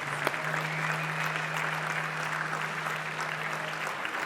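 A crowd applauds at the prize presentation of a badminton final at the 2014 Bitburger Open, steady sustained clapping throughout, with a faint constant tone running beneath.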